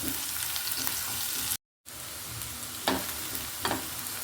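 Curry leaves and onions sizzling and frying in a pan for a poriyal, a steady crackling hiss with occasional stirring scrapes, close and fairly loud, briefly cut to silence midway.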